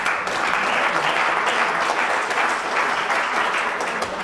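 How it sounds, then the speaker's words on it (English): Steady, dense applause from a meeting audience filling a room, continuous and fairly loud throughout with no break. "This is why we were applauding Amy and Rita and Ann and, all of them, okay?"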